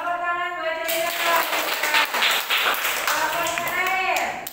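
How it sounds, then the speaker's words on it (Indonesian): Classroom applause for a story read by students at an elementary school: quick, rhythmic clapping from a group of children, continuous throughout, with voices calling out over it. "Tepuk tangan buat cerita."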